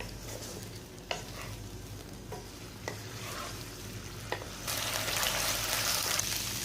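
Chicken chilli fried rice being stirred in a hot pan, with steady frying sizzle and a few sharp utensil clicks against the pan, growing louder and brighter toward the end.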